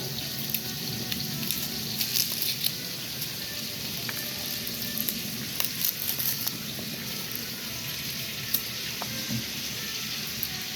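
Garlic cubes sizzle in a pan, a steady broadband frying hiss with scattered small crackles and pops running throughout, fairly close and alone without talk.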